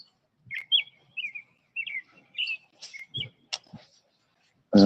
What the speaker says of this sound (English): I wanted to come out and listen to the birds.